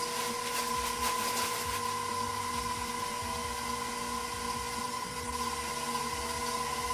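An electric mixer beating sugar and butter, a steady, loud motor whine with a constant pitch and faint rattling texture, continuous and unbroken for several seconds with no talk.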